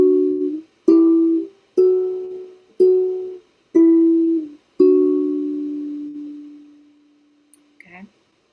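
Simplified riff on guitar: six plucked notes in an even rhythm, each clearly separated, the last one ringing out long and fading, then a short sound at the end.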